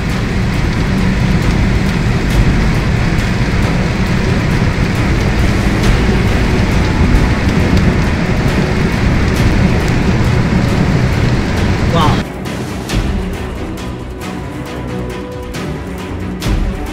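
Heavy rain during a thunderstorm in open countryside, a continuous loud drumming wash that suddenly drops to a lower, patchier level partway through.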